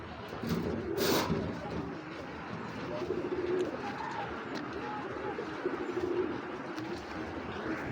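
Racing pigeons coo softly and repeatedly close by, low rolling calls over a faint background murmur.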